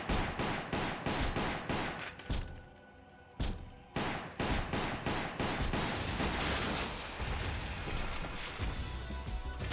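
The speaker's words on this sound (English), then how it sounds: "There's a lot of shooting everything." Rapid, relentless gunfire in the Umbrella Chronicles video game, dense bursts of loud shots with a couple of brief pauses before the shooting resumes nonstop.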